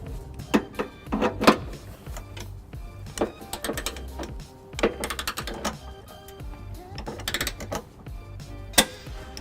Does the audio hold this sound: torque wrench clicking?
yes